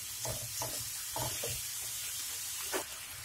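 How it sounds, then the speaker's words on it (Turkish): Minced beef browning in a dry pan without oil gives a constant close sizzle, broken by several scraping, stirring pushes at irregular intervals. "İlk olarak kıymamı ilave edeceğim ve güzelce kavuracağım."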